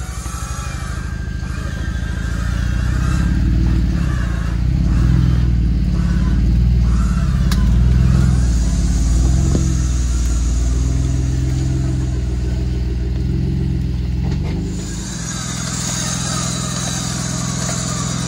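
An off-road vehicle's engine revs hard on a rough creek trail, a loud sustained mid-pitched drone that surges and eases for most of the stretch, then settles into a lower idle near the end.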